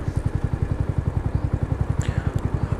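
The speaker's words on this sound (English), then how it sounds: "the exhaust on this sounds like so good, pops and crackles and everything" A KTM RC 125 motorcycle exhaust runs with a steady, rapid, even thumping pulse, loud and close, with a couple of faint higher clicks near the end and no talk.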